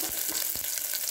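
Mustard seeds and onion frying in hot oil give a steady, close sizzle with a few small pops and crackles, alone and without voices.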